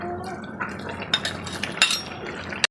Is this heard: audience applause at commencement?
no